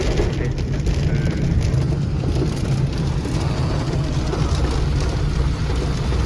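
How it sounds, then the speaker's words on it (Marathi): Steady broadband rain hiss on a road trip to Tuljapur, continuous and fairly loud throughout, with a low rumble underneath like a vehicle nearby. "बघा इथं पाऊस पडायला लागला आहे"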